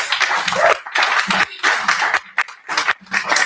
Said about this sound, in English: can we give another round of applause to all the candidates?